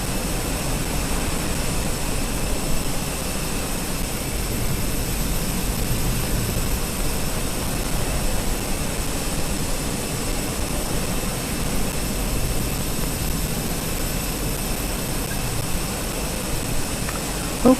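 Steady jet engine roar from a Boeing 737 starting up in Microsoft Flight Simulator, a continuous broadband rumble with a faint high whine, constant and fairly loud throughout with no talking.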